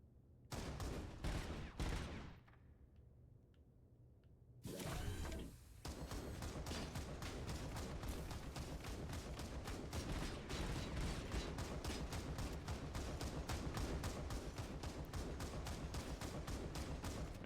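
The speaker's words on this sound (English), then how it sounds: "That is a very large machine gun." Heavy machine gun blazing in RoboCop: Rogue City, starting with a few short bursts, then a gap and a long unbroken stream of rapid, loud shots that runs to the end.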